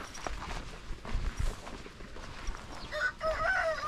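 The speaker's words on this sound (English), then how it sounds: "We were looking at the chickens." Chickens cluck and scratch near a hiking trail in Tholaria, Greece, with a rooster crowing loudly toward the end amid faint footsteps.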